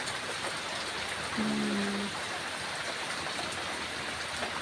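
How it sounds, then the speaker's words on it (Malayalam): Rain falls in a constant soft wash, fairly quiet and distant, with a brief faint tone rising over it partway through. "ആ മഴയുടെ കളകള ശബ്ദമല്ലേ അത് ഭയങ്കര ഇഷ്ടം കേട്ടോ"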